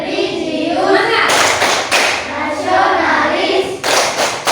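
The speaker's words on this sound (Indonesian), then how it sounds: "mari kita sama-sama melaksanakan tepuk PPK" A classroom group stands and performs a rhythmic chanted hand-clapping routine, sharp bursts of loud clapping in patterned beats mixed with voices reciting together.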